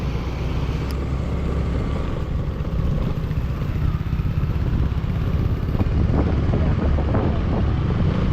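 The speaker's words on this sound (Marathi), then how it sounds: "आता बाईक राईडचे जे व्हिडिओ आहेत ते आता सुरू झालेले आहेत" Steady, loud motorcycle ride on a green countryside road around Lonavala, with a continuous engine drone heavily mixed with wind buffeting the microphone for the whole stretch and no voices.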